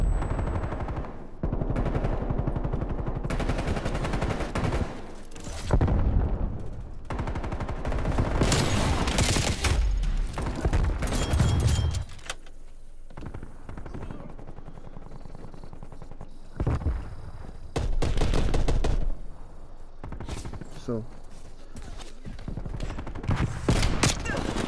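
Rapid automatic gunfire from an assault rifle in Call of Duty: Black Ops Cold War, loud bursts and sustained volleys repeating throughout with brief pauses between engagements.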